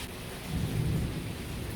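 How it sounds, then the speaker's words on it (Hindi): Rain falling on a rainy day in Canada, a constant steady hiss with a low rumble of thunder swelling and fading in the middle, no talking. "And it's raining."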